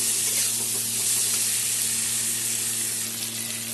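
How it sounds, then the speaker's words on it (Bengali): Onions frying in a pan for a Bengali fish curry, a steady, close, continuous sizzle and hiss with a faint low hum underneath, no talking. "পেঁয়াজটা এখন মোটামুটি ভাজা হবে"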